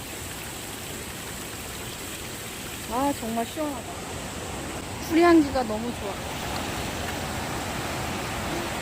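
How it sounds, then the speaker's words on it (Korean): A small waterfall formed by water running down a mountain slope on a hiking trail gives a steady, close, broadband rushing wash throughout, while someone speaks briefly twice over it. "산에서 물이 내려와가지고 작은 폭포가 만들어졌어요."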